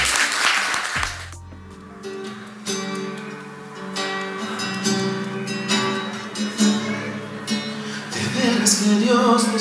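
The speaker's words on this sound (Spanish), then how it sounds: "fuerte el aplauso para ustedes que están acá y que se atrevieron a subir un video." A burst of audience applause rings out at a live singing event, then quickly gives way to music and singing that carry on to the end.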